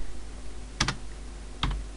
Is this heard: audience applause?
no